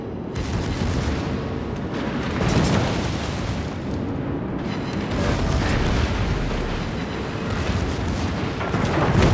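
Warship artillery fire in the naval game World of Warships, a continuous heavy rumble of booming naval guns and blasts, dense and moderately loud throughout without clear gaps.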